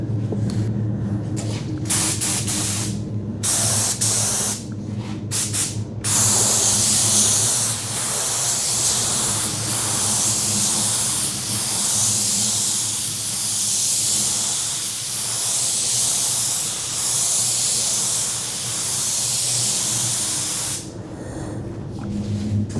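A spray gun hisses continuously as clear coat lacquer goes onto cabinets, a loud, steady spray broken by a few short stops near the beginning and end of the pass.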